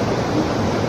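Water rushes at Palaruvi waterfall in a steady, dense roar that fills the whole short moment without a break, loud and close.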